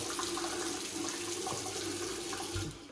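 Water runs steadily from a tap for wetting the face before shaving, a close, continuous splashing hiss that cuts off abruptly at the end.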